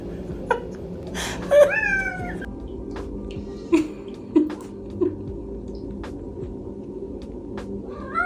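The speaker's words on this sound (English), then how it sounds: "please enjoy the kitten intermission." A kitten meows several times in a quiet indoor room, short high thin mews scattered across the clip, fairly close, with no talking.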